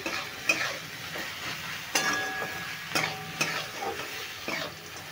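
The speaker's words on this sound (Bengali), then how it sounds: "এবার নুন আর হলুদ দিয়েও আমি একটু ভালো করে নেড়ে নিচ্ছি।" A spoon stirs drumstick flowers with salt and turmeric in a pan: about half a dozen distinct scraping strokes with metallic clinks over a soft, steady sizzle.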